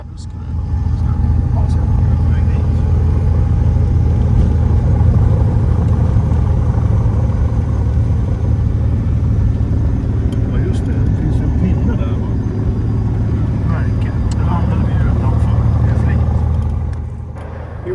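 A V-tail Bonanza's piston engine drones loud and steady from inside the cabin as it departs, a constant low rumble with a faint higher whine that holds for the whole stretch before easing slightly at the end.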